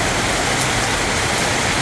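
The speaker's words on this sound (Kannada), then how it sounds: "ನೋಡಿ ಮಳೆ ಧಾರಾಕಾರ ಬರ್ತಾ ಇದೆ ಬೆಂಗಳೂರಲ್ಲಿ" Heavy rain pours down over Bangalore city in a dense, loud, unbroken roar, close and constant throughout.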